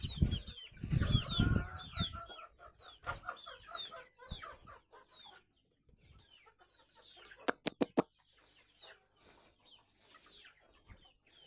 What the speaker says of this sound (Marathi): तीच खाऊन येतात कोंबड्या सगळं